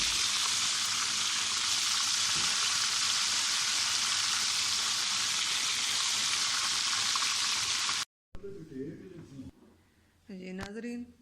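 Fish fries in a pan with a loud, dense, unbroken sizzle for about eight seconds, then the sizzle cuts off abruptly and a person speaks briefly.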